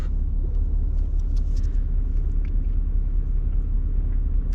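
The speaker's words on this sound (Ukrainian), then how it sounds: "Щось в Юті дуже популярно з двома трейлерами їхати, он ще один поїхав." A truck pulling two trailers drives past on a road in Utah, a steady close rumble of engine and tyres that holds loud and even throughout, with a few faint higher whines on top.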